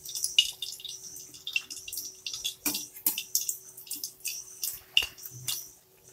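Langcha sweets frying in hot oil, a close, busy sizzle of crackling pops and bubbling bursts that come in irregular clusters.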